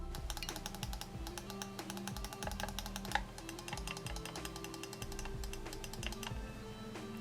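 Button clicks from a Cooler Master Xornet II gaming mouse, with right button, side buttons and DPI buttons pressed in quick uneven bursts, some with a loose rattle, over a steady background hum with no talking.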